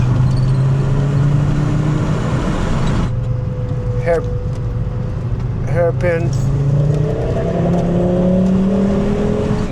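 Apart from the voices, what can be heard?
Volvo 850 GLT five-cylinder engine while driving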